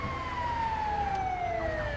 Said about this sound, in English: that was a good call on the ambulance